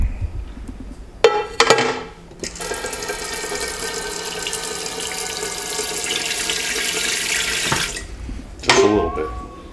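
Water runs from a kitchen tap for broccoli, a steady, close gush lasting several seconds, framed by brief clunks and splashes at the start and end.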